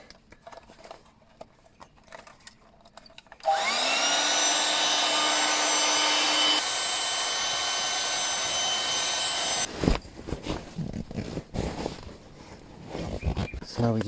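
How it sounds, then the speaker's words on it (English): An electric pump runs from an EcoFlow power station to inflate an air bed at a riverside campsite: a loud, steady whine and whoosh starts abruptly, drops slightly partway through and cuts off, with clattering handling noises after it. "With our EcoFlow, all we need to do is just take our pump"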